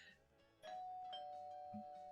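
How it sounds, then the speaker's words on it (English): A soft doorbell chime rings once and its tone holds steadily, quiet and somewhat distant, with faint indoor background noise. "the doorbell just rang"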